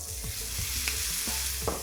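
Red curry paste hits a hot pan with browning onions over high heat, hissing in a constant loud sizzle broken by soft scraping stir strokes.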